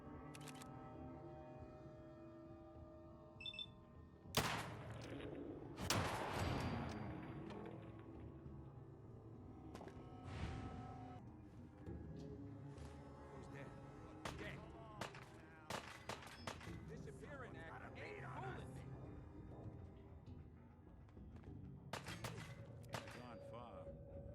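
A sharp .44 Magnum shot in Fallout 4 cracks out among other quieter impacts and clicks. A voice talks intermittently, and the whole scene is faint.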